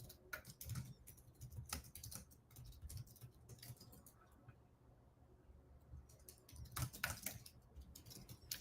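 Quick, irregular clatter of fingers on a computer keyboard, close and fairly quiet, with bursts of rapid keystrokes and a short pause in the middle before typing picks up again.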